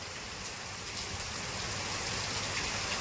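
Steady, dense downpour of heavy, wind-driven monsoon rain, a continuous broadband hiss with drops pattering on surfaces, no voices.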